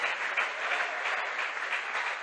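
A church conference audience claps to welcome a visiting pastor, with a steady, dense wash of applause lasting from start to finish.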